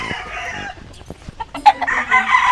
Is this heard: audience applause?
no